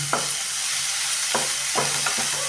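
Okra and egg fry in oil in a pan with salt, giving off a loud, steady hiss. Four quick spatula scrapes cut across the sizzle at uneven intervals.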